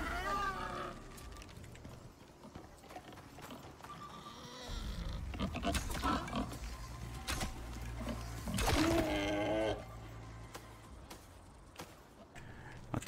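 Pig grunting in the survival video game Icarus, several short oinks and snorts amid game sounds, with someone talking over much of it.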